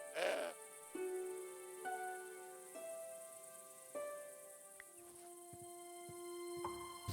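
Goat bleating in the Broken Sword 5 adventure game, a series of drawn-out, wavering bleats repeated every second or so, fairly close and clear over a quiet background.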